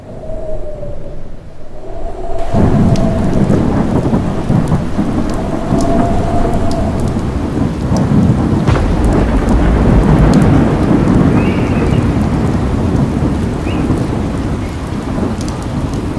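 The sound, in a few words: rain and strong wind in a thunderstorm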